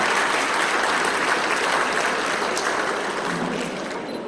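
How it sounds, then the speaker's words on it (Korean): A large audience at a Korean procurement expo greets an arriving guest with loud, sustained applause, a steady roar of clapping that tapers slightly toward the end. "박수 부탁드립니다."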